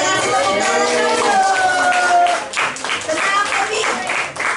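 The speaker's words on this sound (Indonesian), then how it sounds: "Kita kasih tepuk tangan dulu" Children clap their hands during a Good Friday church service, a lively patter of claps mixed with excited young voices and an adult speaking.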